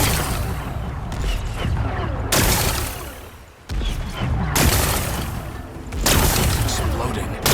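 Explosions blasting away rocks in Horizon Forbidden West, several loud booming blasts separated by brief lulls, each with a crumbling rumble, close and heavy.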